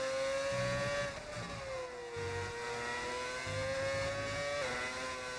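Formula 1 race car engine in a racing video game at the Mexico circuit, holding a steady high whine with gear-shift dips and pitch shifts, continuous and close throughout.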